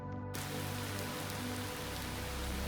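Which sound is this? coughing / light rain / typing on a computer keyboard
light rain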